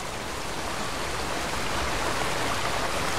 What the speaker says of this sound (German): Lauter Wasserfall.